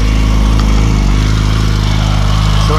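Motorcycle engine idling during winterizing, a loud, steady close-up throb with a regular pulsing rhythm and no talk over it.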